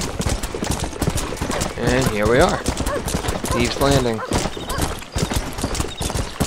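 Horse hooves clip-clop in a steady rhythm as a rider arrives at Thieves Landing in Red Dead Redemption, the sharp hoofbeats running through the whole stretch while someone talks over them.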